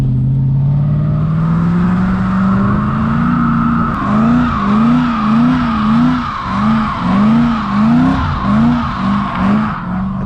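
A 4.4-litre V8 car revs hard in a burnout, its tires squealing loudly and continuously, with the engine note rising and wavering in repeated surges.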